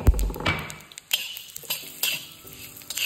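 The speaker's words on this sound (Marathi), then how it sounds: "त्यामध्ये आपण हिंग, त्यानंतर जिरं, तीळ थोडे, हे सगळं भाजायचं आहे" Asafoetida, cumin and sesame seeds roast in a pan for a stuffed brinjal dish, heard as a few sharp metallic spoon clinks and scrapes against the pan over a faint, low sizzle.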